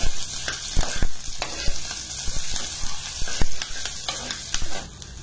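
Coarsely chopped onions fry with browning garlic in a pan for white sauce pasta, a steady sizzle broken by sharp utensil clacks and stirring knocks.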